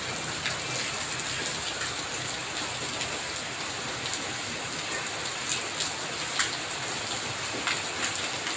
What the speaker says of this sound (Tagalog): Umuulan siya.